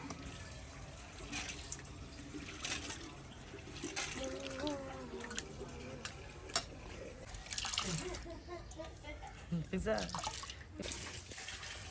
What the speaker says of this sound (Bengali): দেখুন ডালগুলো সুন্দর করে পরিষ্কার